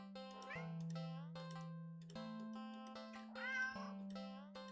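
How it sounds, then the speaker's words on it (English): A cat meowing in the video game Do Not Take This Cat Home, several drawn-out, clear meows in succession over a steady low electronic hum. "when you're halfway down the alley, it's meowing"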